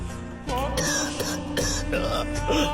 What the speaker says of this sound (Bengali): তুমি তো কখন থেকে কাশছো?